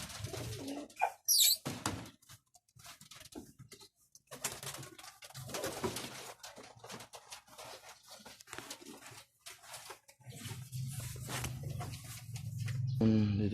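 Pigeons or doves cooing faintly amid scattered rustling, flapping and knocking in a bird enclosure, soft intermittent calls with a brief sharp chirp early on, no clear talking.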